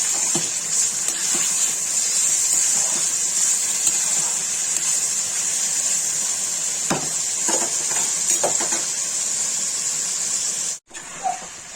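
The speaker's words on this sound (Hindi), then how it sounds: "गरम मसाले से चलाते रहेंगे, नीचे ना लगे" Onions frying in a pan with salt and garam masala for Kashmiri white chicken korma, a steady close sizzle with scattered scraping stir strokes, briefly cutting off near the end.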